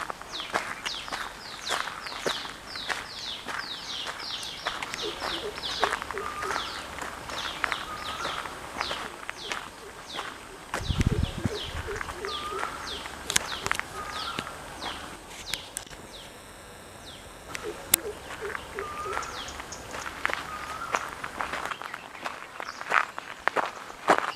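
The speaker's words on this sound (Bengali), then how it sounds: "নির্জন বসন্তে ঝরা পাতার ওপর দিয়ে পাখির গান শুনতে শুনতে আন মনে হেঁটে যাওয়া যায়" Footsteps crunch over dry fallen leaves on a quiet spring walk beside a forest river, steady close steps with a heavier thump midway, while birds sing and chirp repeatedly around.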